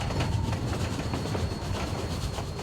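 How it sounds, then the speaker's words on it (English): Historic Cumbres & Toltec narrow-gauge train, a railroad running since the 1880s, rolling steadily along its tracks, with a continuous rumble and faint repeated clicks from the wheels. "It's the same historic railroad that's been rolling down these tracks since the 1880s."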